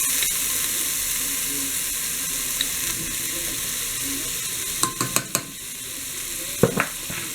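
Garlic cooks over low heat in a pan with a soft, steady sizzle and a faint hiss. A few sharp utensil clicks and knocks land near the end.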